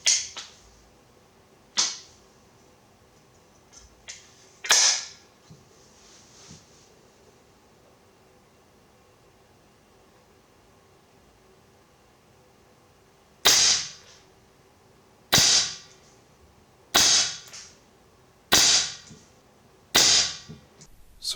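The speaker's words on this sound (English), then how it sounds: "So we'll get on to the shooting to show off the accuracy and the noise" Artemis LP400 air pistol firing pellets, a series of sharp, short pops, three spaced out early and then five more fired at a steady rhythm a couple of seconds apart, close and loud over a quiet background.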